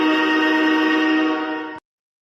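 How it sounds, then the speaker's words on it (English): A train horn sound effect blasts as one long, loud, steady tonal note that holds for nearly two seconds, then cuts off abruptly into silence. "let me hit that train horn for you, Tim."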